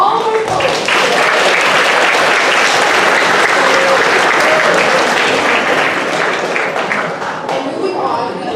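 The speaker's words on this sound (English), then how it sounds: "Can we have a huge round of applause for all our poets today?" Loud, sustained audience applause for student poets at a high school spoken word competition, a thick crowd of clapping running throughout with some voices mixed in and a slight fade near the end.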